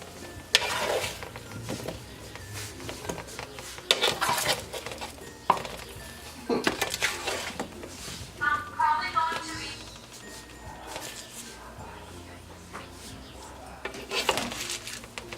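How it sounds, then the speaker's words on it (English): Oven-roasted vegetables are turned on a pan with a utensil, giving scattered clinks, scrapes and light clatters of metal against the pan in irregular bursts, with quiet talk between them. "I want to turn them so that they can go ahead and roast on the other side"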